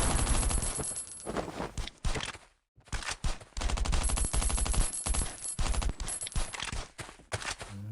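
Rapid bursts of gunfire in the survival video game Last Island of Survival, loud and close, with repeated volleys separated by a short silent gap and then resuming, no voices over them.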